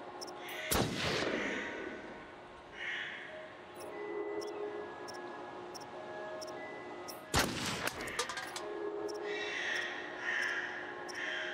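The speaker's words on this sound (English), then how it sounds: "Wow, nice shooting, Tex." Two loud gunshots from the video game Until Dawn, each a sharp blast with a trailing boom, spaced several seconds apart over faint ambient noise and soft breathing.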